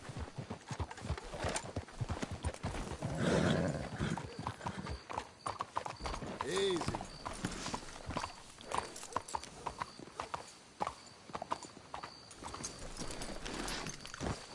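Horse hooves clip-clop in Red Dead Redemption 2 as the horses are walked up to be hitched, a steady close rhythm of hoofbeats with a brief snort and a short spoken word over them.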